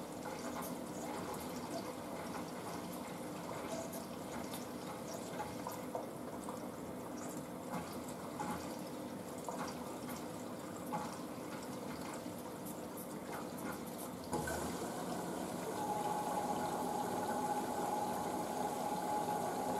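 Water steadily pours into a Blomberg washing machine filling for a rinse during a dark-colours cycle, a continuous hushed rush heard nearby that grows slightly louder and fuller partway through.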